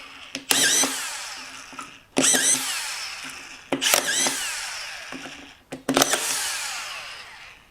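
Makita XSF03M brushless drywall screwdriver drives screws in four separate bursts, each a close, loud rising whine that cuts off into short quiet gaps between screws.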